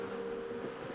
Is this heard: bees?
yes